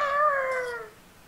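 Minecraft cats meowing in a video game: a single drawn-out, falling meow, loud and close, fading out near the end with no talk.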